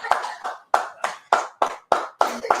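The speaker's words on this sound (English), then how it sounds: "Let's go ahead and clap it up." A congregation claps in unison at a Day of Atonement church service in Kansas City, with about eight loud, evenly spaced, sharp claps close by and no talking.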